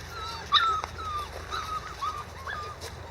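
Ten-week-old puppies whimper and yip in thin, high cries, several short calls scattered over a low background hum, fairly close.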